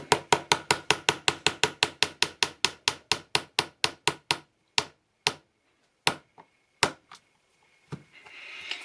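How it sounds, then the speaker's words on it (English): A part is pressed into a VFC MP7 gas blowback airsoft gun with a screwdriver: a close run of about thirty sharp, evenly spaced clicks that slows and thins out into a few scattered taps. "press it in with a screwdriver because ghetto"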